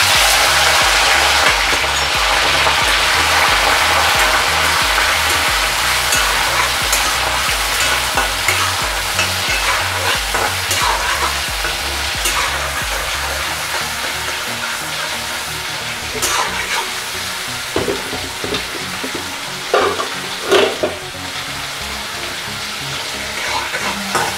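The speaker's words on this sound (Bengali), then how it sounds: "সর্ষের তেল দিয়ে প্রথমে আমি একটু চিংড়ি মাছগুলোকে ভেজে নেব।" Prawns fry in mustard oil in a wok, producing a loud, constant sizzling hiss close up with occasional stirring clatter and a few louder pops toward the end.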